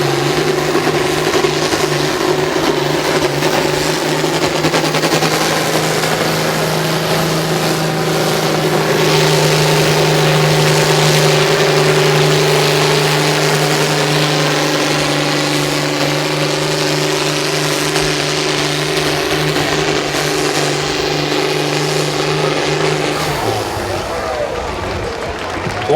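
A pulling tractor at the 2015 Armada Fair tractor pull runs its engine hard, a loud sustained drone with a steady rising pitch that holds for over twenty seconds before easing off near the end, with crowd noise and an announcer's voice throughout.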